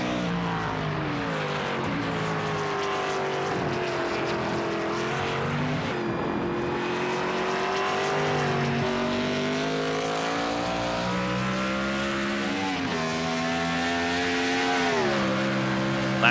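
Onboard NASCAR stock car engine through a tight corner at the Montreal street circuit: a loud, continuous roar whose pitch dips and climbs as the driver lifts and gets back on the throttle, with no talk.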